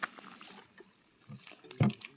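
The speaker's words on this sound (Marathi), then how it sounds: "आपला भात आहे ना तो पूर्ण झालेला आहे शिजवून वगैरे पाणी आता आपण काढून घेतोय" Water being drained off a pot of cooked rice during outdoor cooking, with a soft trickle and then a brief, louder splashing pour near the end, faint ambient noise around it.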